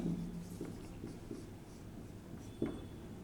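Pen scratching on paper as math sums are written out, a soft intermittent scraping with small taps between strokes, close and quiet with no talk.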